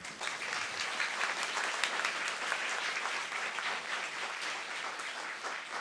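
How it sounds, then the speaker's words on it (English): Steady, full applause from a lecture audience welcoming a professor, a dense, even wash of many hands clapping that holds at constant loudness throughout. "Let us all give a round of applause"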